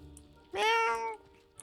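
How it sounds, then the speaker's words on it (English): A cat in Hogwarts Legacy gives a single clear meow, a short, close, tonal cry of about half a second that stands out against a quiet game soundscape. "Found the cat."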